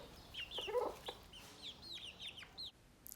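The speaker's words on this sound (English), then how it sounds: "So here are all the chickens." Several chickens cluck and squawk in short bursts, fairly faint, with a few higher chirping calls mixed in.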